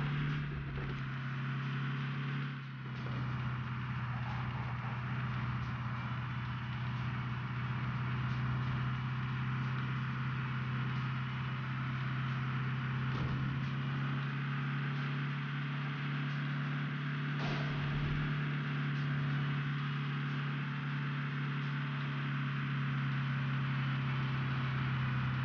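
A car in PUBG Mobile drives with a constant low engine hum at a steady level, heard alone for the whole stretch.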